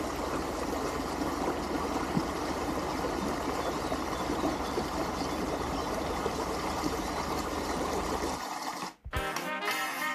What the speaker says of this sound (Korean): 징검다리 사이로 흐르는 물소리가 좋습니다.